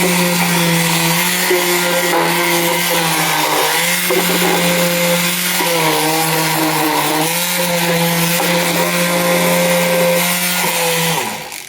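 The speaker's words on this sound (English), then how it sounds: "I'm trying to sand right now." Cordless power sander working across a table, a loud steady motor whine with shifting pitch as the pad moves and bears down, running continuously before cutting off at the end, no talk.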